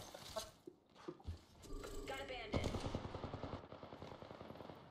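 Heavy rapid gunfire in a video game, a dense stream of fast shots that builds into continuous automatic bursts in the second half, fairly faint overall with no talking.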